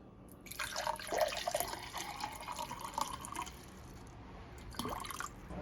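Water pours in a steady stream into a container set on a kitchen scale while making homemade soap, running for about three seconds and then breaking into a second short splash, close and fairly loud with no talking.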